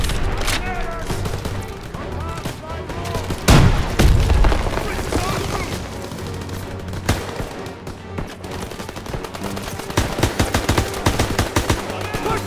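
Sustained machine gun fire rattles through a Call of Duty WWII multiplayer fight on Collateral Damage, loud and near, with rapid bursts, heavy thumps and muffled voices in the background, ending in a dense stretch of clattering shots.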